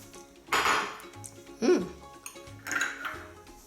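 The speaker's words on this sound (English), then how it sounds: "let's beat the Nutella with the eggs" Nutella being beaten with eggs in a bowl, a utensil scraping and clinking against the bowl in three loud bursts of whisking separated by short pauses.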